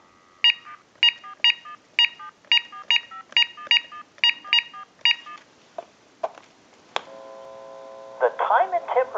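A rapid series of touch-tone beeps as a time-and-temperature number is keyed in on an AT&T 5450 cordless telephone, followed by clicks, a brief tone, and the start of a ringing line.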